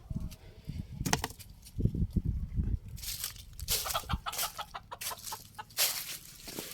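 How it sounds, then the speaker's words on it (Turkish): İspenç chickens cluck and squawk in bursts close by, with some rustling and clatter mixed in throughout. "Diğer tavuklarım da burada kalanlar."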